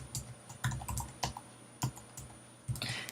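Keys tapped on a computer keyboard to enter a first and last name into a login form, an irregular series of close, crisp clicks with short pauses.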